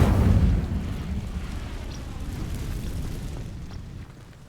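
An Incendio fire spell blast in Hogwarts Legacy erupts as a loud, deep whooshing burst, then settles into a sustained roaring rumble of flame that slowly fades out.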